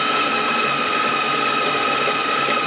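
An electric hand mixer churns cream cheese mint dough in a bowl, a steady loud whirring motor drone that holds constant throughout with no speech.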